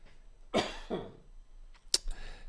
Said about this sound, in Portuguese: Deixa eu tossir aqui